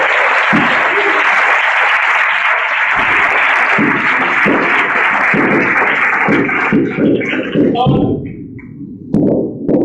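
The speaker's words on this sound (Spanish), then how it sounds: "Un aplauso fuerte a Dios bendito." Loud, sustained applause from a church congregation, with a voice speaking over it as the clapping gradually thins out and stops.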